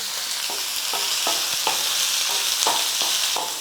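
Finely chopped, lightly salted onion sautéing in a pan, a constant close sizzle with regular spatula strokes scraping through it about every half second.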